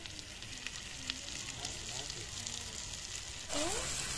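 Boiled eggs and potatoes fry in thick spice masala, giving a soft, steady sizzle and faint crackle, quiet and close, with a brief louder burst near the end and faint voices underneath.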